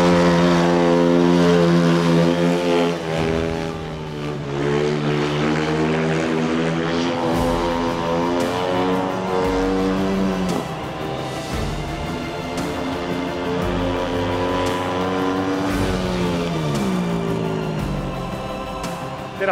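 An Italian GM speedway motorcycle engine runs loud and close, a sustained buzzing drone whose pitch rises and falls as it revs over about twenty seconds, with no talk.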